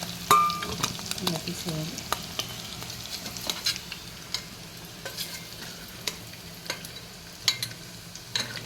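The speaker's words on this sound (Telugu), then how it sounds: "పసుపు ఇలా కొంచెం పచ్చివాసన పోయేదాకా వేపుకొని తీసేయాలి" Turmeric briefly frying in a pan while making aloo egg dum biryani, a soft low sizzle punctuated by sharp clicks and scrapes of a spoon, with a short spoken remark near the start.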